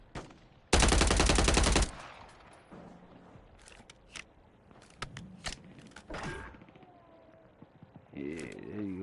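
Gunfire in Warzone Rebirth Resurgence: a loud sustained burst of automatic fire up close, then scattered shorter shots and mechanical clicks, with faint in-game sounds between.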